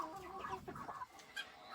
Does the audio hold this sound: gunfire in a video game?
no